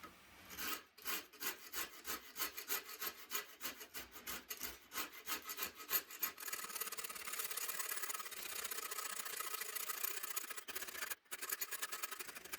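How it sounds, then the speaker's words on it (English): Shinto rasp carving a wooden guitar neck, rhythmic scraping strokes close up, roughly twenty in quick succession at first, then merging into a steadier continuous rasping, alone without talk. "now I'm going to do the same technique with that Shinto rasp and just carve from that top line to the bottom line"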